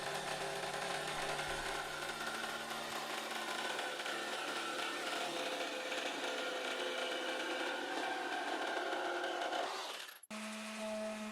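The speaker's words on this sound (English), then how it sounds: "All I did was trace it and use my jigsaw to cut it out." A jigsaw cuts a curved wooden shelf piece for a console table, a steady buzzing whine running without a break for about ten seconds, close and loud, then stopping abruptly and leaving a short low hum.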